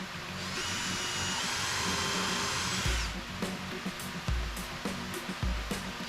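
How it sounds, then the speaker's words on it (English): A power drill whirs steadily for a few seconds, then stops, followed by several short bursts of drilling and countersinking into scrap wood near the edges of a storage crate. "I always countersink when I'm drilling close to edges"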